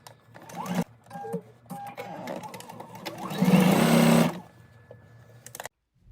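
Sewing machine stitching a seam down a garment facing, a steady mechanical whir that runs in short bursts, then one longer, louder run near the middle before stopping, heard close and alone.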